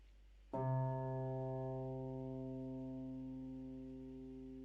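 A single low C plucked on a harp rings out with clear overtones, the bright attack fading into a long, slowly decaying sustain, heard alone.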